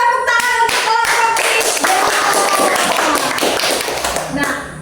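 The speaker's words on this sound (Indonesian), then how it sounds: "tepuk tangan untuk kelompok" Classmates clap for group 3 in a school classroom, a steady patter of hand claps running the whole moment while a teacher's voice carries over it.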